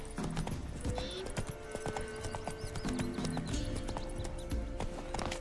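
Roach, the horse from the video game Witcher 3, trots with steady clip-clop hoofbeats, close and continuous, over game music and ambience, with a brief whinny.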